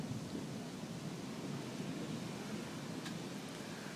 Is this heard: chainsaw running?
no